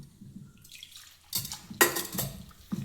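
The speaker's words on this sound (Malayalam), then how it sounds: "ഇനി നമ്മൾ ഈ പുളിവെള്ളം ഒഴിച്ച് ഇതൊന്ന് നല്ലവണ്ണം നമ്മളൊന്ന് കുഴച്ച് എടുക്കണം" Tamarind water is poured into a fish curry and stirred in, giving a soft wet splash followed by a few clinking spoon-against-pot scrapes and stirs, close and fairly quiet, with no talking.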